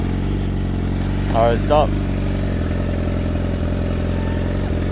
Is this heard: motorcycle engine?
yes